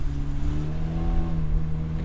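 A car driving, heard from inside the cabin: a steady, close engine drone with low rumble and faint rising tone, continuous and alone.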